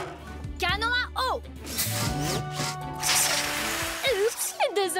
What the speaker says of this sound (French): Canon à eau.